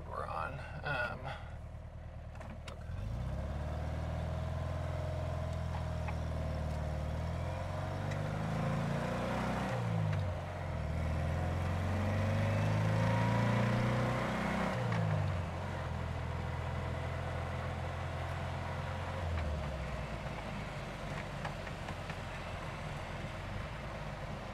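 A Porsche 356 B with the 60-horsepower engine drives along a road, a steady close engine drone that rises and falls through revs and gear changes for about twenty seconds.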